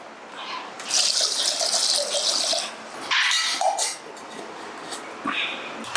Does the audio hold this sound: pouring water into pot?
yes